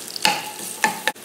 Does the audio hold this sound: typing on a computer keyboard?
no